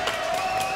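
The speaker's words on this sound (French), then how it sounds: "mon public vous applaudit à tout rompre" Studio audience applause and cheering on a French TV chat show, a steady wash of clapping heard in a brief burst.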